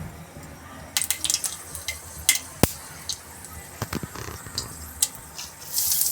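Mustard seeds crackle and pop in hot oil in a home kitchen while dry chole is being cooked, giving scattered sharp snaps over a steady, soft sizzle.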